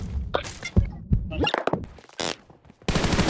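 Gunfire in the mobile battle royale game PUBG Mobile, several sharp bursts and shots spread across the moment, mixed with game effects and a loud rushing burst at the end.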